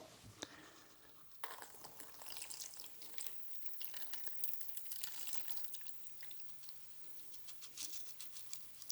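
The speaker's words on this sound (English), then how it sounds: "And allow the liquid to drip through." Sake drips through a carbon filter into a cup, making faint, irregular patters and small splashes close by, with no voices.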